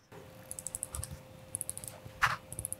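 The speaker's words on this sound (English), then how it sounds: "I'm gonna hold this against my my microphone because this has the best sound winding it" Close-up winding of a Laurent Ferrier mechanical watch held to a microphone: quiet, crisp rapid clicks in short bursts, solid and precise, with a brief pause between runs and no talk.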